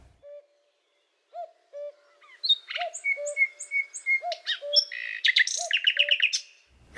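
Several bird species sing in turn in a composed, poetic sequence: a repeated hooting call runs low and steady beneath, while bright chirps, whistles and trills layer on top and build to a dense, lively chorus.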